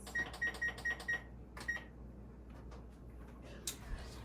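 Short electronic beeps from an oven's control panel as a 45-minute cook time is set for a St. Patrick's Day cake: five quick even chirps, a pause, then one more, clear and close in a quiet kitchen.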